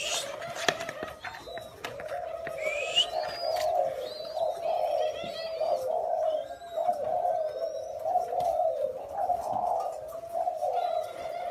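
Pair of Thai spotted doves cooing close by: repeated soft, rounded coos follow one another in a steady rhythm over a quiet background, with a few faint chirps from other birds.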